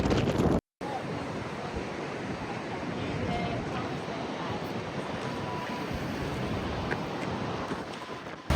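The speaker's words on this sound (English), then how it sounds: "It's raining, windy." Steady roar of wind and rain at the coast in Australia, with a broad, constant wash of noise buffeting the microphone outdoors, broken only by one brief cut.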